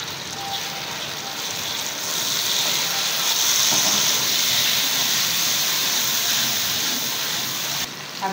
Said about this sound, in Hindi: लहसुन अदरक का पेस्ट भूनने के बाद अब इसमें टमाटर ऐड कर देंगे